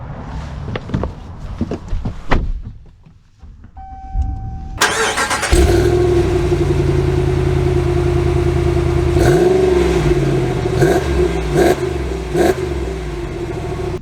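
A 2024 Ram 2500 Power Wagon heavy-duty pickup engine starts and settles into a steady, loud idle hum, then revs and pulls away with several rising gear changes, close and alone without talk.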